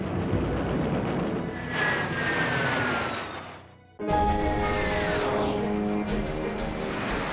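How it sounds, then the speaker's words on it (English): Soviet-built MiG-15 jet fighters in flight, a roaring engine with rising whine that fades out, then a sudden loud burst of another jet roar with shifting tones and drama score underneath. "Soviet-built MiG-15s fly into action for the very first time."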